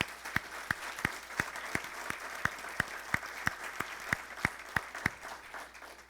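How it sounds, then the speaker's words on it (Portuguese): A church congregation claps for the worship group, a faint, even round of clapping from the room with a distinct, louder clap striking at a regular beat over it. "Uma salva de palmas ao nosso grupo de louvor."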